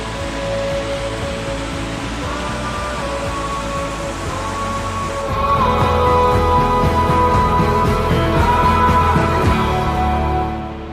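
Uhl River rushing far below a steep mountain trail in Himachal Pradesh, a steady broadband roar of flowing water that swells louder midway and holds at that level, with no voices over it.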